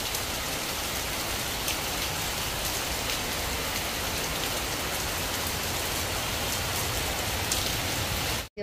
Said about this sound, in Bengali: মুষলধারে বৃষ্টি হচ্ছে, মুষলধারে।